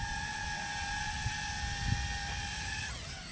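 A DJI Mavic drone hovers in flight, giving off a steady, close, high-pitched propeller whine that holds level and then shifts pitch near the end.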